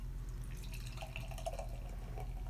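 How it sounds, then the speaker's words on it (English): Beer poured from a crowler into a glass, a steady low liquid gurgle and trickle with faint dripping, close by and alone. "let's continue the trend of me not being able to pour from a crowler"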